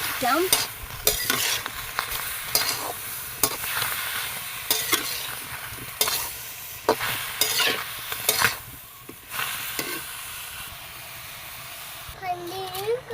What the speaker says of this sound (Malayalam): ഞാൻ നാലഞ്ച് ഗ്രാമ്പു കുറച്ച് കുരുമുളക് ചൂടാവണ്ട് ഇളക്കി കൊടുക്കാം